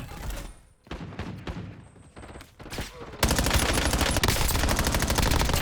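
Sustained automatic gunfire in the Call of Duty battle royale Resurgence mode: scattered shots at first, then a dense, loud continuous burst of rapid fire through the second half.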